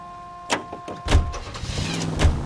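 A car in the video game L.A. Noire starting up: a door thud and clunks, then the engine catching and revving with a couple of loud surges, close and clear with no talk.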